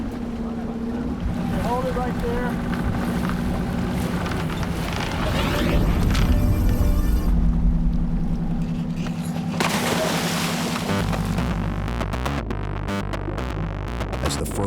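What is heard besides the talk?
boat engines revving at a shark dive site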